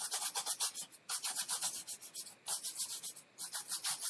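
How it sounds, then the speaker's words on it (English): A brush scrubs alcohol over the back of a water-damaged, corroded iPhone logic board, making rapid, close, rhythmic scratchy strokes in bursts with brief pauses between them. "I'm going to go ahead and use some alcohol on this back side of the board and really just scrub it"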